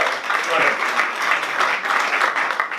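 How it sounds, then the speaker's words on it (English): Audience applause at a startup showcase in Manchester, a continuous wash of clapping at moderate loudness with a faint murmur of voices mixed in. "Round of applause, maybe."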